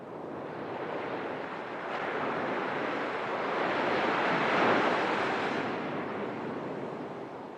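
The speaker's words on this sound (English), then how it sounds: "Every time the waves come onto the beach, they move the ripples of sand a little." Ocean surf rolls onto a sandy beach in a broad continuous wash that swells to a peak midway and then eases, with some wind buffeting and no voices.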